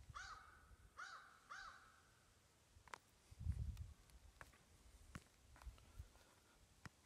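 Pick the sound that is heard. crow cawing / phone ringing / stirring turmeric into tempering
crow cawing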